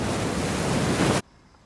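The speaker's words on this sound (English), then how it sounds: "big waves rolling in" Big waves roll in on a Jurassic coast beach near Lyme Regis, a loud, continuous broadband wash of surf that cuts off abruptly, leaving a faint, quiet hiss.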